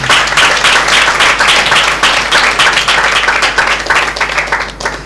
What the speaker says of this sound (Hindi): हम जोरदार ताली बजाएंगे